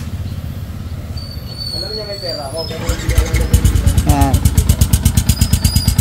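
A Yamaha Sniper 150 motorcycle engine with a replaced exhaust pipe idles at first, then revs into a loud, rapid, pulsing rattle up close, with someone speaking over it.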